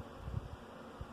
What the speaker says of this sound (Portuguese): Aqui é mel com abelha, olha aí.